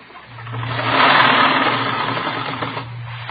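In a radio drama, a sewing machine stitches ruffles with a steady mechanical whir that swells up within the first second and then runs on continuously at a fairly loud level, with no one speaking.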